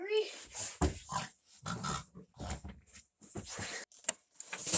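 A person imitates a pig with grunting, snorting vocal sounds, spoken loudly and close in several short bursts mixed with other voiced noises.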